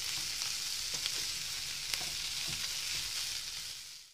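Minced meat fries in a pan with a loud, continuous hiss of hot oil, broken by a few crackles and soft scrapes before the sound fades out at the end.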